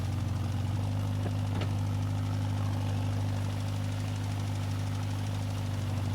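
A machine's PTO in a logging roleplay video game, Riverbend Springs, hums and idles as a steady, even engine drone with a constant low rumble and no voices over it.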